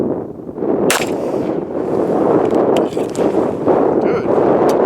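Gunshots from a Nighthawk 1911 pistol at an outdoor shooting range, sharp cracks fired one after another over steady wind noise on the microphone.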